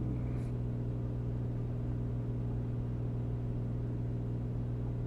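Propeller engine of an A2A Comanche light aircraft in a flight simulator, a steady, even drone of the prop and engine held at reduced RPM, heard continuously from the cockpit.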